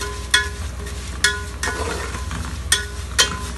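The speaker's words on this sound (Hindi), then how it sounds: "इसको फ्राई करेंगे, लाइट ब्राउन होने का इंतज़ार करेंगे" Fine vermicelli pasta fries over high heat with a low, steady sizzle, punctuated by about five sharp scraping clinks as it is stirred in the pan.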